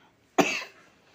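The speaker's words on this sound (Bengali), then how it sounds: "এখনও পুরোপুরি কাশিটা কমেনি" A single sharp cough rings out close and loud, with a short rasp that fades quickly into quiet.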